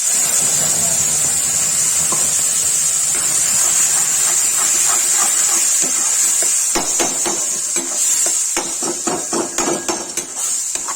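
Tomatoes, onion and garlic sizzle in hot oil in a pan, a steady loud hiss with scattered clicks and taps running throughout.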